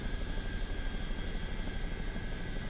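An aircraft on the runway for takeoff in Microsoft Flight Simulator 2024, a steady loud engine roar with a constant high whine, continuous and unbroken.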